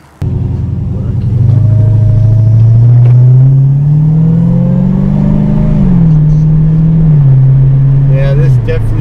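A Dodge Charger Hellcat engine rumbles loud and close as the car pulls away, its deep tone rising and falling through the gears before settling, with a voice talking over it.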